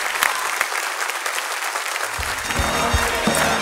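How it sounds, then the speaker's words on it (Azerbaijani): A studio audience at a televised singing competition claps in sustained, dense applause that swells louder toward the end. "Alqışlar"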